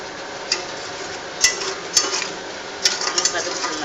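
Green chillies frying in a pot are stirred with a metal spoon, giving sharp clinks and scrapes against the pot over a soft frying hiss, close and intermittent.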